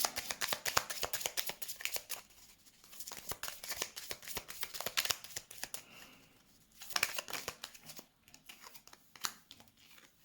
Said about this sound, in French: je vais finir de mettre des cartes